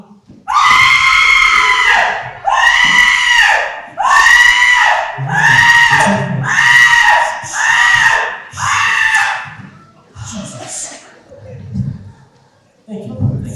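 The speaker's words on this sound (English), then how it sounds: "Somebody had stopped screaming." A woman screams in a stage performance of Clue: seven long, loud, high shrieks in steady succession, each separated by a brief gap, followed by faint murmurs and low stage noise.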